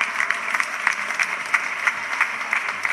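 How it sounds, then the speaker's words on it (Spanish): A crowd at an outdoor charity lemon event in Novales claps steadily in a dense, moderately loud wash of applause with a few sharper individual claps standing out, no voices on top. "un aplauso para ellos"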